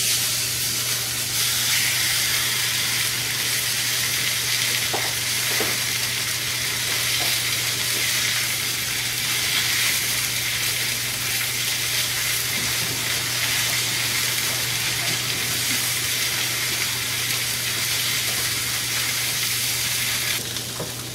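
About 1.3 pounds of salmon fries face side down in a pan over medium-high heat to turn crispy, giving a loud, steady, unbroken sizzle that fills the whole stretch with no talking.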